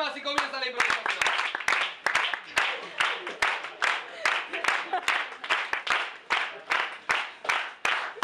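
A small group claps in a steady, evenly spaced rhythm, sharp close hand claps repeating alone for several seconds after a brief voice at the start, marking the start of an improvised sound-effects performance.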